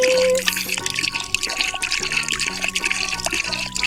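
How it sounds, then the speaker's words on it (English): Orbeez water beads are poured into a toy, making a wet, trickling patter that continues over a steady tonal background. "pour in some of our Orbeez"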